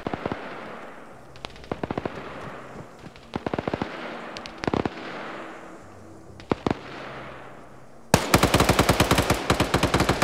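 Automatic and single-shot gunfire in a Soviets versus NATO military game battle, arriving in repeated sharp bursts over a constant background. A denser, louder barrage of rapid shots closes the stretch.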